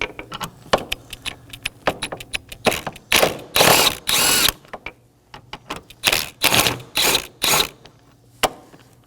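A hand ratchet loosens two 10mm nuts on a bracket atop bank 2 of a 2015-2023 Nissan Maxima 3.5L V6 engine, quick clicking runs in repeated close bursts with short pauses between, no speech.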